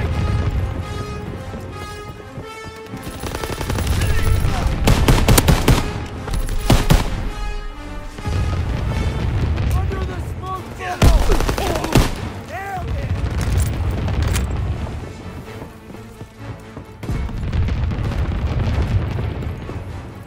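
An anti-aircraft gun salvo on the USS Texas map of Call of Duty WWII, in team deathmatch: heavy, repeated booming bursts and crashing blasts roll on without pause, with voices shouting over the barrage.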